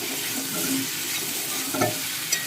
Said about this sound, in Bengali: ঝোলটা একটুখানি মশলাগুলো ভাজা ভাজা করে নিয়ে জল দিয়ে দেবো